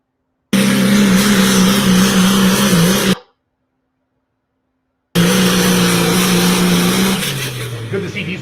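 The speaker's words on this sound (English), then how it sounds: "Good to see diesel truck pullers back with the Outlaws." Loud diesel pulling trucks at a truck pull event, engines roaring in two long sustained bursts separated by a gap of silence, the second burst dropping in pitch and easing off toward the end.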